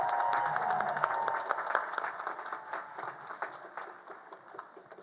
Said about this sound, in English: Please let us have another round of applause for our cohort of doctoral graduates.